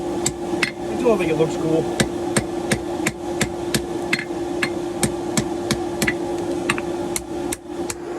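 Sharp, regular hammer blows ring out on a ball bearing Damascus karambit blade curved over an anvil horn, roughly two strikes per second with metallic ring, someone speaking briefly over a steady background hum.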